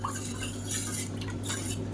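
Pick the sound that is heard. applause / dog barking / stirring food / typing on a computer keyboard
stirring food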